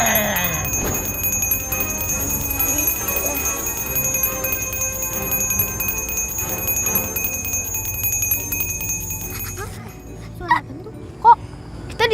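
A small mini bell rings with a bright sustained metallic tone through most of the stretch, then fades near the end, leaving a few brief clinks; faint sounds linger beneath.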